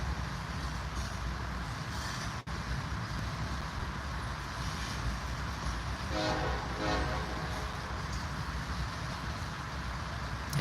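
A train horn sounds in a few short harmonic blasts, warning track workers, over the steady rumble of a passing train in Iowa, loud and close.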